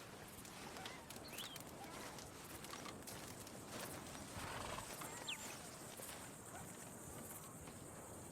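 Horse in the Red Dead Redemption 2 video game, with steady clip-clop hooves and a neigh or whinny over continuous outdoor ambience and faint birds.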